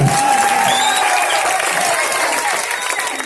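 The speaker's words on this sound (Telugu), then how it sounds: "గట్టిగా చప్పట్లు కొట్టాలండి" A crowd at a Devi Navaratri dance event bursts into loud, dense applause that carries on steadily throughout, with a voice faintly heard underneath.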